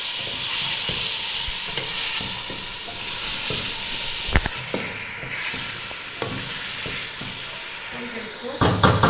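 Spices, onions, tomato and green chillies frying in a pan for chicken pulao give a continuous close sizzle, broken by sharp stirring scrapes and knocks of a spoon against the pan.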